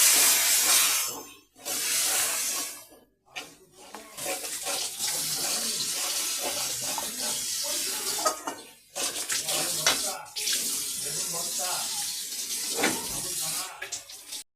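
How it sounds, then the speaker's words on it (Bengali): Water used to rinse spices is poured into a cooking pot of potatoes and cauliflower curry, a splashing, gurgling stream in bursts with short pauses, close and fairly loud, with a voice talking over parts of it. "দিয়ে দিব মশলা ধোয়া জল"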